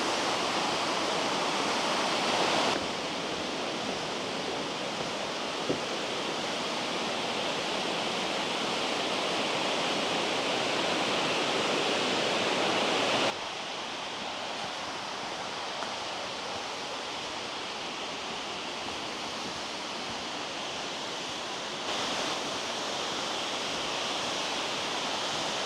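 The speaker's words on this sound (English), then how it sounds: "that was Helton Creek Falls." Helton Creek Falls pours steadily in a forest setting, a broad continuous rushing roar of falling water heard up close and loud, with its level shifting slightly as the listener moves about; no voices.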